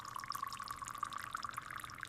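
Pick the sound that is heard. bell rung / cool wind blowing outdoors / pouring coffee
pouring coffee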